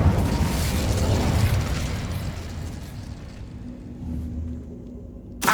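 Incendio fire spell in the video game Hogwarts Legacy erupts in a loud, roaring whoosh of flame that rumbles for about three seconds before fading, with a sharp burst at the very end.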